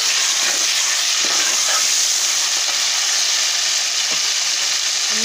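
Onions and tomatoes frying in a pan, a loud, steady, close sizzle with continuous hiss and faint crackles throughout.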